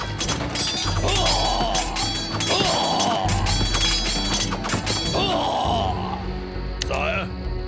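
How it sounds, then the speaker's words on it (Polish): William striking with his sword in the Empire Earth strategy game, repeated metallic clashes and thuds of battle amid busy combat noise, with a voice speaking over the fighting. "William nieźle teraz tłucze tym swoim mieczem."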